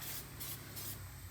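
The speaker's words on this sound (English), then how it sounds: "for a spray bomb, it's pretty good" A Rust-Oleum spray can hisses in a continuous, close, loud blast, with three slight pulses in intensity as the paint is sprayed onto an intercooler part for a 1972 Toyota Celica build.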